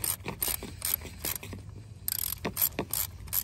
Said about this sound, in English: Now we're going to use the socket number 8.